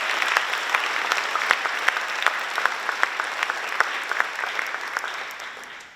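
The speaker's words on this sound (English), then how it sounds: "So I do want to give all of them a round of applause." A school awards-night audience gives a round of applause, a steady roll of many hands clapping with sharp individual claps standing out, fading at the very end.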